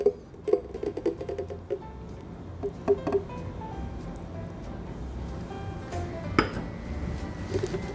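A Korean melon smoothie is shaken hard in a shaker, giving irregular clattering knocks and clinks of ice against the container. The sound is close and moderately loud, with no talking over it.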